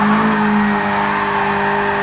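A BMW E30 engine holds a steady, loud revving drone in third gear in the video game Gran Turismo Sport at the Tsukuba circuit, sustained and close for the whole span.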